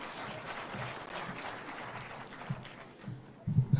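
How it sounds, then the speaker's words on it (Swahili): A crowd at an outdoor political rally with the Kenyan president in Nyeri County applauds the majority leader, a faint, scattered patter of clapping over distant murmur, with a louder burst of thumps near the end. "Makofi kwa Mheshimiwa."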